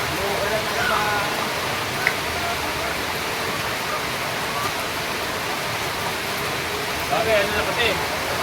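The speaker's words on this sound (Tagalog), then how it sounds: "Kaya mga kabukals, umuulan na naman." Steady rain falls in a broad, even hiss around a layer-hen poultry farm, continuous and fairly close throughout, with a few faint bird chirps and small knocks poking through the wash.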